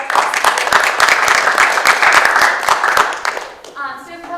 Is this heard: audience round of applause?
yes